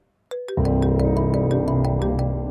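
A phone ringtone sounds in a Pakistani TV drama scene, first two short tones, then a loud sustained melodic ring that continues steadily without speech.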